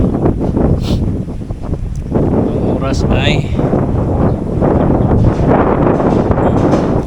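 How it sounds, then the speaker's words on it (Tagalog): Steady, loud wind roars and buffets the microphone throughout, with someone talking over it outdoors. "pero malakas ang hangin"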